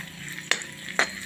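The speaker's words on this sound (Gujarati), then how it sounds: "ઘીના અંદર સૂકા મેવા શેકીએ એટલે બહુ જ સરસ સુગંધ આવે છે।" Dry fruits and raisins roast in ghee with a soft, steady sizzle, broken by two sharp scraping stirs close by.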